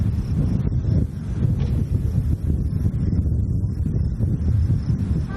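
Steady, roaring wind buffets the microphone with continuous low rumble and gusty rustling throughout, loud and close, with no voice clearly heard, on a hot roadside on a road trip through the Canadian Rockies and American West.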